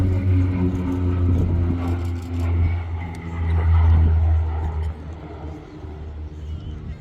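An OV-10B Bronco twin-turboprop aircraft flies at the Midlands Air Festival 2024 air show, its engines giving a steady, droning rumble that swells and fades slightly as it passes, with a voice speaking over it.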